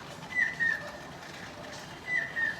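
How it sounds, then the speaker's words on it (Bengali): A rainy-season bird calls outdoors under a cloudy sky: two pairs of short, clear whistled notes, fairly faint over a soft background hiss, with a gap between them. "এই দেখ, এইবার পাখি ডাকছে, বর্ষার পাখি"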